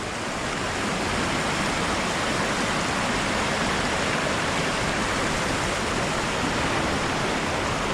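Ellenborough Falls stream rushing in flood, a dense, loud, unbroken roar of churning water heard up close for the whole stretch.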